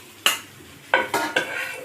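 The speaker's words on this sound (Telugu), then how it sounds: "షాలో ఫ్రై ఇలాగే అవ్వాలి మనకి" Veg cutlets shallow frying in a pan give a low sizzle, broken by a few sharp scrapes and clinks as they are turned and lifted out.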